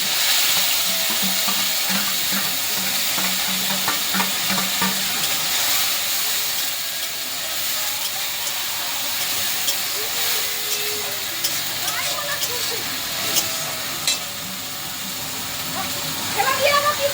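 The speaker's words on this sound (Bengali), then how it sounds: "দেখো আমার পেঁয়াজটা ভাজা ভাজা হয়ে গেছে" Onion paste frying in a pan for a home-style chal potol curry, giving a steady sizzling hiss throughout with faint stirring scrapes, while someone talks over it.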